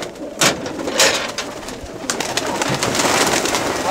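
Pigeons coo near a playground in Kaminia in 2024. Repeated soft, throaty coos and wing flutters come from close by over a busy outdoor background, with no talk.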